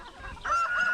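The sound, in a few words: chickens clucking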